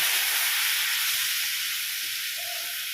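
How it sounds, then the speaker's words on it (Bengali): Spices sizzling hard in a pan after a splash of water, a dense, loud hiss that holds steady and fades slightly toward the end, with no voices. "এবারে আমি অল্প জল দিয়ে দেব যাতে মশলাটা পুড়ে না যায়"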